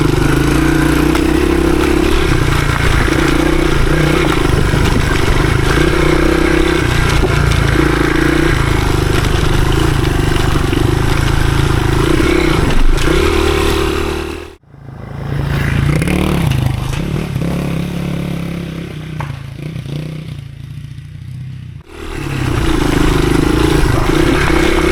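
A 1983 Honda XR200R dirt bike, a 15hp trail machine, rides wooded trails with a steady, rough engine note and clattering, scraping sounds, briefly fading twice before the engine surges back.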